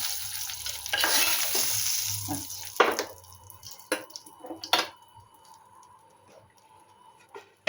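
Spice mix poured into a hot pan for an egg and cauliflower curry sets off a loud burst of sizzling, which fades into quieter frying punctuated by clicks of stirring.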